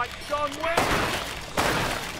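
Rapid gunfire from Killing Floor 2 while players shoot down Christmas elves, two sharp dense bursts with a shattering edge, loud and close, following a brief tonal game sound.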